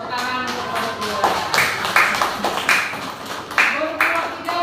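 A classroom group claps for a presenting student group, a short run of sharp, uneven handclaps up close, mixed with a little talk.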